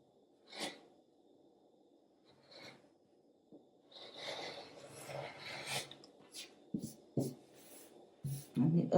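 Scissors cut the ends off a shirt's fabric in a series of rasping, crunchy snips and rustles, some soft and some louder, clustered close to the microphone with brief pauses between cuts.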